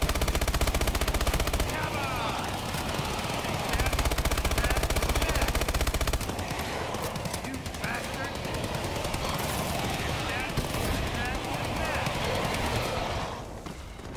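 Sentry gun in the ExoZombies game fires in sustained automatic bursts, loud and dense through most of the stretch with a brief drop partway, while a player talks over the gunfire.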